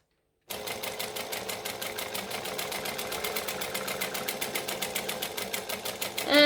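A sewing machine runs steadily, stitching vinyl joined to fabric for a handbag, its rapid, even needle clatter continuing for about six seconds before a brief louder burst at the end; no one speaks.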